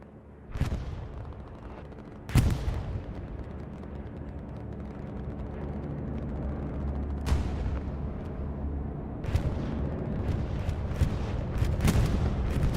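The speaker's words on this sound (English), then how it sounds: "Bombing run coming in now for 3 LPZ, it looks like, getting a nice couple kills on that main road" Bombing run explosions with scattered gunfire in the console war game Hell Let Loose, heavy booms landing at about 0.5, 2.4, 7.3 and 9.4 seconds over a continuous low battlefield rumble, with more sharp blasts near the end.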